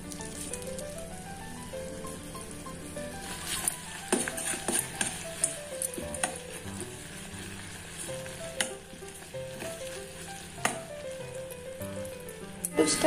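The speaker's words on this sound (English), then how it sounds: "I will cook it for 3 to 4 minutes till the petal becomes little soft in the sugar syrup." Rose petals cooking in sugar syrup for rose ice cream, giving a steady soft sizzle and bubbling with occasional stirring scrapes and clinks, close and moderately quiet over a low background hum, no talking.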